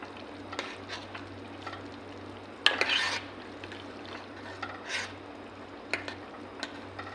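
Prawns and okra are stirred together in a frying pan over quiet background sizzling. A utensil scrapes against the pan in a few brief strokes, with one louder scrape near the middle.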